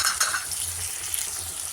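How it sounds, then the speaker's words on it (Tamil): Onions and tomato frying in oil for a village-style mutton fry, a soft, continuous sizzle with scraping stir strokes, close and fairly quiet. "நல்லா வெங்காயம் வதங்கணும்."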